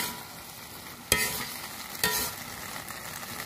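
Shallots frying in a pan as a home cook stirs them, a steady soft sizzle broken by two sharp scraping stirs of the utensil, close and alone.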